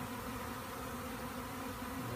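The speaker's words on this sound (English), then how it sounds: "These are all really mature worker bees." A swarm of mature worker bees hums in a low, steady drone during a swarm capture, faint and continuous with no voices.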